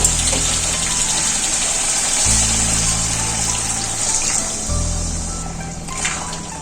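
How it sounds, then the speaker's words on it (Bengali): Hot water pours into a pan of egg and potato curry being sautéed in the kitchen, a steady close watery rush and sizzle lasting several seconds with no talk. "ডিম আলুটা কষানো হয়ে গেছে এর মধ্যে আমি গরম জল দেবো"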